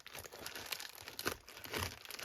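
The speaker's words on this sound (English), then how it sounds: "I'm just coming in with the scissors, so you'll get my live reaction to it" Scissors cut through packaging tape on a parcel, giving a close, continuous crinkling and tearing rasp that swells and fades for a couple of seconds.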